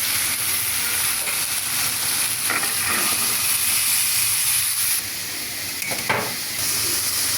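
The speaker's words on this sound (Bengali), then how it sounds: "ছোলা ভুনা করছি। মশলাটা কষিয়ে অল্প একটু আলু, অল্প একটু টমেটো দিয়ে দিয়েছি।" Black chickpeas frying with spices, a little potato and tomato in a pan, giving a steady close hiss and sizzle with a few faint stirring clinks, no voices.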